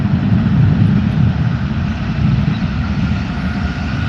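A Jetstar Australia jet airliner takes off from a wet runway in the early morning, its engines a loud, sustained low roar that holds steady close by, with no talking.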